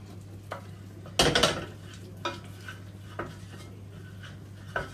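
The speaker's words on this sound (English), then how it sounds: "we add it gradually, and we gradually stir it in over that heat" Milk being stirred gradually into a white sauce in a pan over heat for cauliflower cheese: one loud scraping burst, then several short, quieter scrapes and taps over a low steady hum, with no talking.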